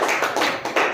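A class of schoolchildren clapping for a girl in a village government school, short dense burst of many hands close by with uneven swells.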